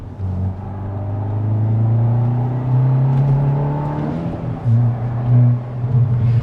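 A Hyundai i20N hot hatch accelerates on an open country road, its engine droning loud and close and rising steadily in pitch, then easing and picking up again near the end.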